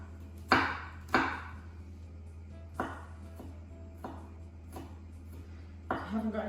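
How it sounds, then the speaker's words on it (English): A kitchen knife chops fresh garlic finely on a board: several sharp, separate knocks spaced about a second apart, close and fairly quiet, ending with a quick cluster of cuts. "now, again, just chop it up really finely"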